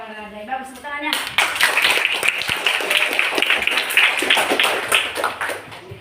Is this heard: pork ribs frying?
no